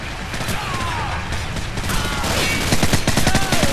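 Flashbang grenade going off during a Call of Duty 4: Modern Warfare ship-raid mission, a burst of gunfire-like bangs and ringing mechanical clatter that builds and grows denser toward the end, loud and close throughout.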